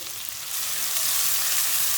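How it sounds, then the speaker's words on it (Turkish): Onions sizzle and crackle steadily in hot oil in a pan, a bright, dense frying hiss that swells slightly after the first half second and stays loud and close. "Yağımız ısındı, tavamız ısındı. Hemen soğanı döküyoruz."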